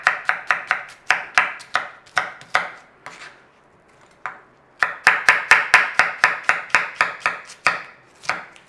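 A knife slices an onion on a cutting board in quick, steady chops, close and crisp. After a short pause the rapid rhythm returns, with no talking.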